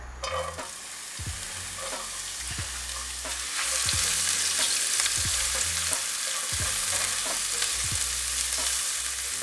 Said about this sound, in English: Now we'll fry the onions nice and soft.